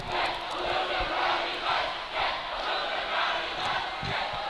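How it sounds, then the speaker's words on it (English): A home crowd at an ice hockey game between the Taft Rhinos and Berkshire Bears cheers and chants from across the rink, a steady, fairly faint roar that swells in rhythmic waves. "Taft crowd trying to rally the troops here."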